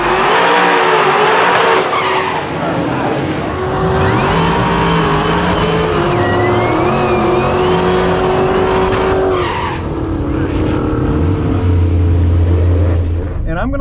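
A Cadillac CTS-V on Mickey Thompson tires launches hard in a quarter-mile drag race, tires squealing and the engine revving loudly and climbing as the car pulls away, with a brief pause near the end before a low rumble returns.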